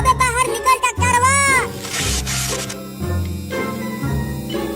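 A cat meows several times, with rising and falling wavering cries close up, over a background of music or other tonal sounds.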